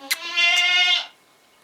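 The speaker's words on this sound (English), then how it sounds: "And she is a Dutch Landrace goat." A pregnant Dutch Landrace goat gives one loud, close bleat lasting about a second, wavering and nasal, then quiet follows.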